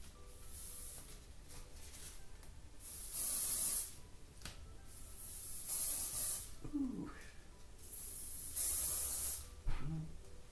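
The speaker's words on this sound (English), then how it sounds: "I am just going to use the Eben Wonder Lace Spray." Several bursts of lace spray aerosol hiss close by, each lasting a second or so, separated by quiet pauses with light handling sounds.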